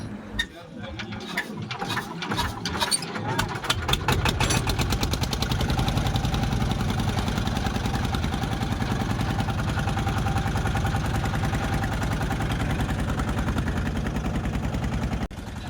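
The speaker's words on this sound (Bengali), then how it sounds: "এখনই ড্রাইভার সাহেবের অ্যাসিস্ট্যান্ট গাড়িটি স্টার্ট দিয়ে দিবেন" A trawler boat's engine on a river crossing to a char island sputters to life with rough chugs, then settles into a loud, steady, rapid mechanical drone that runs on close by.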